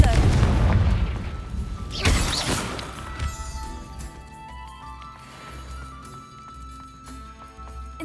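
A Confringo explosion spell bursts in Hogwarts Legacy, a loud booming blast with crackling debris at the start, a second impact soon after, then fading rumble under low ambient sound and a brief voice.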